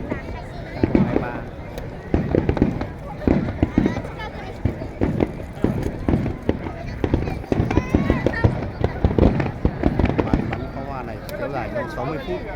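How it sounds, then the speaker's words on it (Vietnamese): Fireworks at a Tokyo festival crackle and pop in dense, continuous bursts with a rumbling undertone, heard amid crowd noise and talking. "Các bạn đang xem màn bắn pháo hoa trong một lễ hội Tokyo vào ngày 22 tháng 7 năm 2023."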